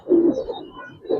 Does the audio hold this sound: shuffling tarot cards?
no